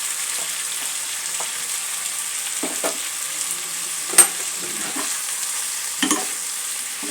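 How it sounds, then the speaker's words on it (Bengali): Spice-marinated vegetables are stirred in a frying pan for a Bengali fish curry, giving a steady close sizzle with occasional scraping knocks of the spoon against the pan. "দু এক মিনিট একটু নাড়াচাড়া করে নেব সমস্ত সবজিগুলো"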